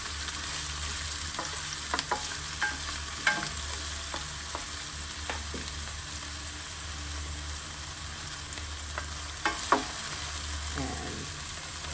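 One small onion fries in olive oil in a pan, giving a steady, even sizzle that continues throughout, broken by occasional light clicks and scrapes from stirring.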